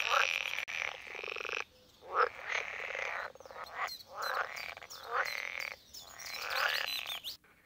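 Frogs and toads, including green frogs, common toads and brown frogs, croak in a rich Dutch wetland habitat, with loud rhythmic rattling calls repeating close by in a steady chorus.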